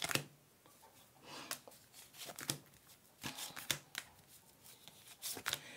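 A deck of playing cards used for a reading is shuffled by hand, giving a series of soft, quick riffling bursts and flicks at irregular intervals. The sound is close and quiet with short pauses between bursts.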